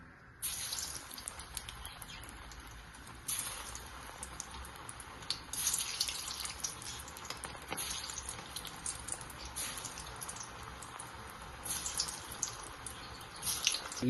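Elephant foot yam balls deep-frying in hot oil, a continuous bright crackling hiss with rising bursts as more balls go in, close and steady with no talk.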